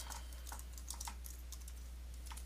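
Someone types on a computer keyboard in quick irregular bursts of light clicks, fairly close, over a steady low hum with no talking.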